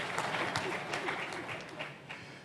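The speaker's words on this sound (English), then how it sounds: "Please, a round of applause." An audience at a prosperity dialogue conference gives a brief round of applause, a moderate scatter of claps with a few louder individual hits, fairly faint and short.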